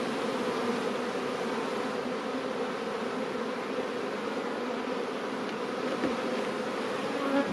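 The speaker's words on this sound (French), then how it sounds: "tout pondu, rempli d'abeilles" Dense, steady buzzing of many honeybees up close at a strong, full hive, a continuous hum with no voices.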